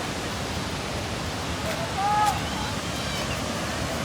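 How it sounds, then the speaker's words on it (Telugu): A waterfall roars as a steady, broad wash of rushing water, with a brief swell partway through and no clear voices standing out. "వాటర్ ఫాల్స్ చూడండి ఫ్రెండ్స్"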